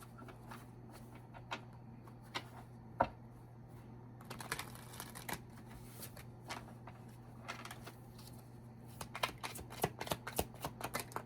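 Tarot cards shuffled and drawn for a love reading, with close papery shuffling, soft slaps and scattered taps, quiet and irregular over a low steady hum, busier toward the end.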